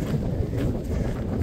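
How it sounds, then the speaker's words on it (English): Steady wind buffeting a microphone on Flat Top Mountain, a low continuous rumble with gusty swells and no other sounds. "It is windy, windy up here."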